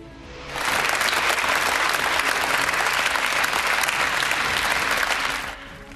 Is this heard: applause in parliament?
yes